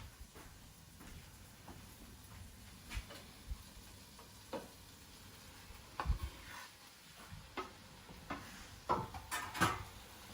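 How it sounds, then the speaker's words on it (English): Eggplant strips mixed gently in a pot for a Middle Eastern dish, heard as soft stirring and scraping over a faint sizzle, with scattered spoon knocks that grow a little busier toward the end. "I'm going to very gently mix it together."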